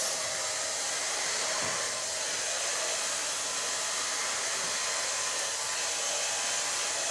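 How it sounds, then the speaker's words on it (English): Hair dryer blow-drying hair with a large brush, a loud continuous close-up roar of blowing air that stays steady throughout with no talking. "Start blow drying."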